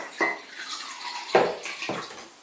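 Room-temperature water pours into a container during a simple solubility demonstration, a faint, soft splashing that comes in a few short bursts over a quiet background.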